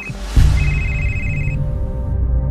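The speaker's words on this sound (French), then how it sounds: "Et là, le téléphone sonne et c'est le CROSS qui nous alerte pour un sauvetage en mer." A telephone rings with a high electronic tone in two bursts over a low background hum, loud and close, with no voices.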